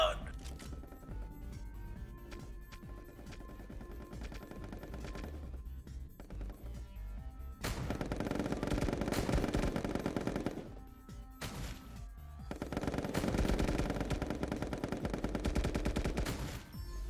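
Rapid, sustained bursts of gunfire from the Pummel Party video game, two long loud volleys separated by quieter stretches, with people talking over the shooting.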